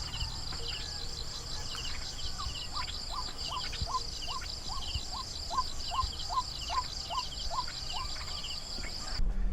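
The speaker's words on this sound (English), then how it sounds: "that was a white-breasted Waterhen." Repeated calls of a white-breasted waterhen in a marsh, a regular series of short rising notes, moderately near, over a steady high chorus of insects or crickets with faint birds behind.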